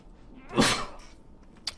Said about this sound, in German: ich muss kurz niesen